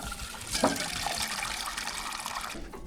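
Water runs steadily for a dog, a continuous splashing pour that stays close and fairly quiet outdoors and cuts off near the end.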